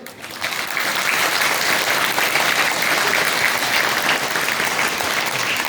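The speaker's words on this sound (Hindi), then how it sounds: "बजाओ लड़के ताली" Boys in an audience at a community event clap steadily, a dense, loud round of applause that holds for about five seconds.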